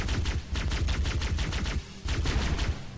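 Close assault rifle fire in Halo: Combat Evolved, sustained rapid automatic bursts with a brief pause near the two-second mark before the firing resumes.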